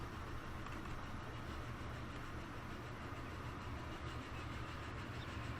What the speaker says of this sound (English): there should be quite a fair amount of trains rolling past here